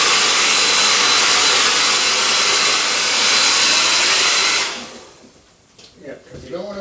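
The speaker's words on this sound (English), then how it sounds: "But the dryer works nicely because it moves a lot of air at one" A hair dryer blows steadily and loudly for about five seconds while drying filler on a 1/350 scale Polar Lights Star Trek Enterprise model, then cuts off, leaving faint handling sounds.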